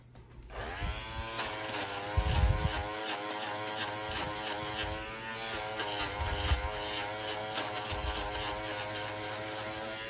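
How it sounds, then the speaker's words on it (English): A fabric shaver hums steadily as it runs over a sweater laid flat, shaving off pills section by section, a continuous close electric buzz with slight shifts in pitch as it moves. "So we need to get to sweater shaving."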